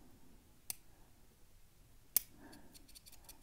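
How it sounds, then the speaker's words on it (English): Pin clicks while picking a Lockly Flex Touch deadbolt, two sharp isolated clicks close to the microphone followed by a few faint ticking sounds in a quiet room. "We're getting more than a few clicks on some of these pins"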